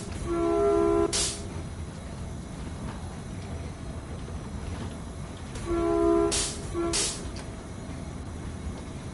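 An F40 locomotive hauling gallery cars on the Peninsula Corridor in Train Sim World 2 rumbles steadily with a constant low drone, punctuated by two short horn-like tonal blasts and brief hissing bursts.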